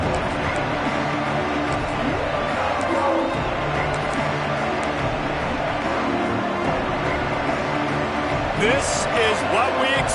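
College football stadium crowd roaring steadily at a season-opening game, a dense continuous wash of noise under play-by-play commentary.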